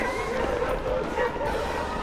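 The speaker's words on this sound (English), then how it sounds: "There's the hunting dogs. There's a ton of them." A large pack of hunting dogs barks and yips continuously beside a trail near Florida's Nature Coast, a dense overlapping chorus heard at moderate distance with a faint background hum.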